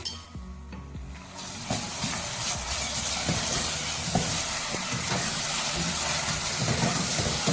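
Onion with garlic-ginger paste frying in a pan for mutton masala gravy: a quiet start gives way to a dense, steady sizzle and hiss, broken by scraping stirs.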